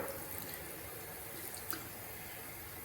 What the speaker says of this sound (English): I'm actually just rinsing out the brush here, giving it one last rinse